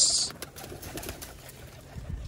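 Pigeons coo softly and intermittently near grain being scattered, a low murmuring bird sound over faint background noise.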